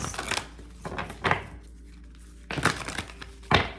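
Tarot cards being shuffled in several quick riffling bursts, close up, separated by short quiet pauses.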